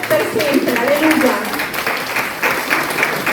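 A church congregation applauding at a festival mission service, with sustained, dense clapping that holds steady throughout while a voice speaks over it.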